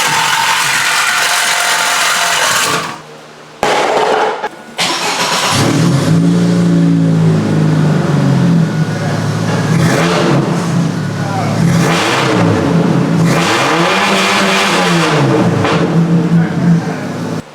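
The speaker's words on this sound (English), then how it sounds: "I'm just gonna cut the muffler off and see how bad it sounds like that." A Chevrolet S-10 pickup engine with its muffler cut off revs hard, loud and raspy, in repeated rising and falling surges after a brief pause, with a metallic rattle at times.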